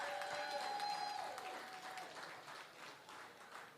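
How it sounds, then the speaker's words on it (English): Live podcast audience in Los Angeles applauding, a dense burst of clapping and cheering that tapers off over a few seconds, heard alone without talk. "Give yourself a round of applause."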